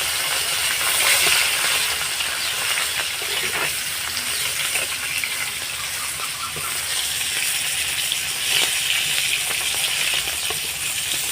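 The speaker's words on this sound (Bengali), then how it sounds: "আমি সরিষার তেলেই বানাবো এই তেল কইটা আমি কই মাছগুলো অল্প করে একটু ভেজে নেব এইভাবে" Koi fish fry in mustard oil, giving a loud, steady, close sizzling hiss with faint crackles throughout and no talking.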